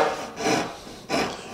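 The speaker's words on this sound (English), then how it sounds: "I'm sawing as plumb as I can." A hand saw cuts wood for a hanging cabinet in two rasping strokes. The back-and-forth sawing is close and clear, with no talking.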